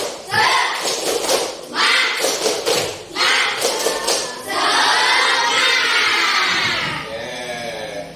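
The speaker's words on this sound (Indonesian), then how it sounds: "Nah, tepuk semangat." A school class of pupils performing a rhythmic spirit clap in unison, bursts of patterned clapping and chanting voices, then a sustained stretch of group shouting and clapping, loud and close.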